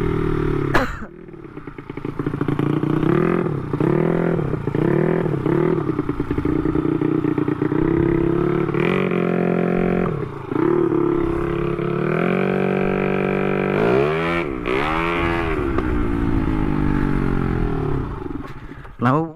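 A motorcycle engine runs nonstop for the whole stretch, loud and close, with repeated revs that rise and fall and a rattling, clattering roar underneath.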